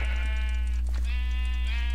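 Sheep bleating in a multiplayer video game: a loud, sustained, wavering bleat carries through the whole stretch with a short break midway, alone with no talk over it.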